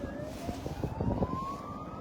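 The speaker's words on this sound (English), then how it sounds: "Sirens in the distance." A distant emergency siren wails, rising slowly in pitch, faint under steady background traffic noise near a road leading into Brisbane port.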